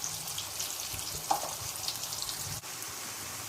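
Eggplant masala curry simmering in a pan, a soft steady sizzle and bubbling at close range, with one faint clink partway through.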